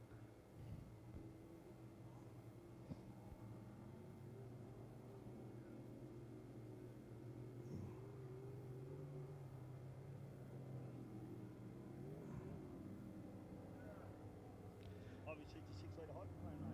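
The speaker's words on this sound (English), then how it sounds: "Six litre hydros, boy" Six-litre racing hydroplane engines drone from a distance at the E.C. Griffith Cup on the water at Yarrawonga, a faint steady rumbling hum that runs throughout under talk.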